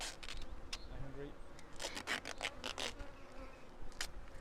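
Honeybees from a colony being removed buzz close by, rising and falling as individual insects fly past. Sharp bursts of handling noise break in repeatedly, and a voice is faintly present.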